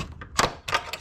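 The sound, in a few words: pushing needle bar out of knitting machine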